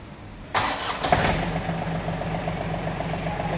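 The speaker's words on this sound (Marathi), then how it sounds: "आता मी तुम्हाला ट्रॅक्टर चालू करून दाखवणार आहे." A John Deere 3036EN four-wheel-drive tractor with a 35 HP three-cylinder engine cranks and catches at about half a second, then settles into a steady, close, rhythmic diesel idle with no talk.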